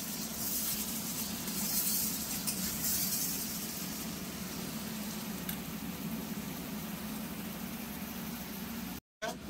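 Spices frying in a pan for a Bengali tangra fish curry, giving a steady, even sizzle and hiss that holds close and fairly loud throughout, with one brief cut near the end.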